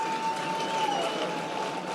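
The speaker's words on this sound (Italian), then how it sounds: "un forte applauso che ci siamo tutti adesso" Audience applause at an awards ceremony, a dense, steady wash of many hands clapping at moderate volume with a faint tonal hum through it, continuous for the whole moment.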